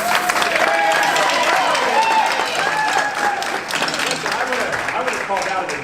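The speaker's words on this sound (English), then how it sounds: "First, round of applause for it." Audience applause at a jazz clinic, loud steady clapping from a crowd with voices and cheering mixed in, tapering slightly toward the end.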